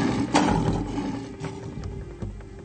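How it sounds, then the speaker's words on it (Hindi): A lioness roars close by, calling to her cubs: a low, rumbling roar with a few grunting pulses over a few seconds, alone with no voices. "शेरनियां जब अपने बच्चों को बुलाती हैं तो उनकी दहाड़ काफी अलग तरह की होती है"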